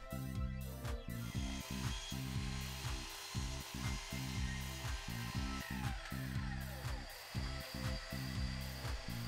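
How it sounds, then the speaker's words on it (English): Miter saw cutting MDF board, a motor whine broken by repeated rhythmic pulses and a high cutting hiss, moderately quiet and close. "I head to the miter saw to cut a fresh 90 degree end"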